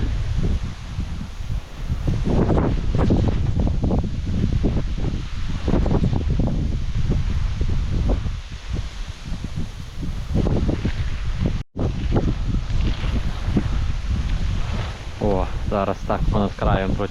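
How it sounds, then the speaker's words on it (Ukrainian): Strong wind buffets the microphone in a continuous, roaring rumble, with gusts rising and falling and someone speaking underneath, while pike fishing on the Stokhid River in autumn. "Такий вітер, що, мабуть, нічого не чути буде."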